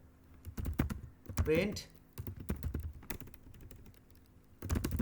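Rapid clicking keystrokes on a computer keyboard while Python code is typed, coming in bursts close to the mic with someone talking over and between them.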